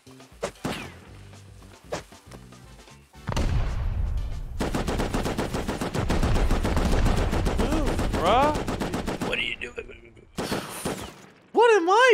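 Rapid bursts of automatic gunfire from a video game village raid, breaking through a wall, rattle loudly through most of the clip, with voices talking before and between the shots.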